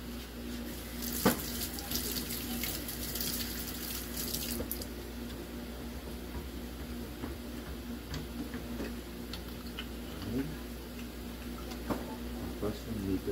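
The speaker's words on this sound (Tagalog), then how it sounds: "hand hygiene or hand washing technique" Tap water runs steadily into a sink during a hand-hygiene washing demonstration, a continuous close rushing with occasional ticking and splashes as hands move under the stream.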